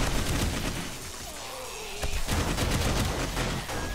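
Guns firing in the zombie survival video game 7 Days to Die, a dense, continuous loud volley of shots with a brief lull midway before the barrage resumes.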